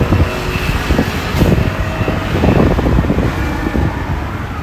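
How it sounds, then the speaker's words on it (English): Strong wind from a typhoon buffets the microphone in heavy, rumbling gusts at Inokashira Park, Tokyo, a loud continuous roar that swells and eases without pause. "It's really windy today."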